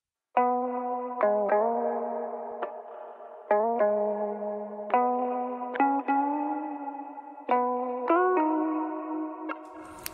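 A virtual guitar melody played on a keyboard instrument, using the mod wheel and pitch bend, gives plucked notes with swooping bends and echoing tails in a rhythmic phrase, close and alone.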